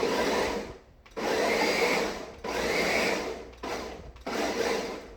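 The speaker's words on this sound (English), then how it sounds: "I love my Ninja blender, it does a good job. So we're going to pulse again." A Ninja blender motor whirring in four bursts with short pauses between, pulsed on and off repeatedly, close and fairly loud.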